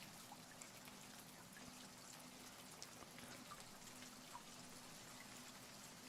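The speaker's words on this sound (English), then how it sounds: "At least they're putting in relaxing rain sound, not spooky noises." Quiet, steady rain falls continuously in a video game, a soft even hiss of drops with faint scattered patters and no voices.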